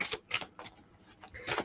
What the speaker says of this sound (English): giving them a really good shuffle.